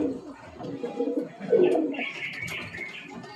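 Bloodline pigeons in Kolkata coo softly and fairly faintly, low throaty burbling that swells midway, with a higher bird call joining toward the end.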